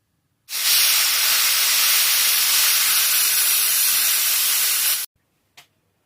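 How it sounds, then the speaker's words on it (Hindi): A pressure cooker set on a stove releases a loud, steady hiss of steam that lasts about four and a half seconds and then cuts off abruptly, followed by a brief faint puff. "तो अब हमने रख लिया है प्रेशर कुकर को चूल्हे में।"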